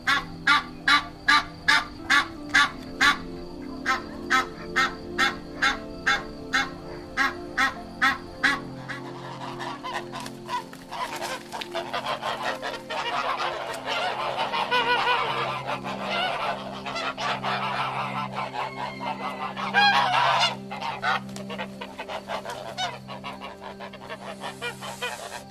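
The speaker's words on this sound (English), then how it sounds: "A goose." A goose honks loudly in a regular series of separate calls for several seconds, then the calls run together into a denser, overlapping stretch of honking and squawking.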